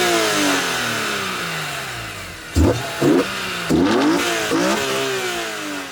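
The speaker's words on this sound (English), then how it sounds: "Humongous throttle body, I would say, that opens up and it just sucks in air and it makes this glorious sound." A BMW E46 M3 with a CSL intake and big throttle body drones under load with falling pitch, then gives four sharp, loud throttle blips in quick succession that snap up and drop back. Nobody speaks over it.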